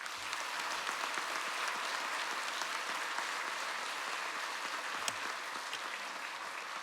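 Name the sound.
church congregation applause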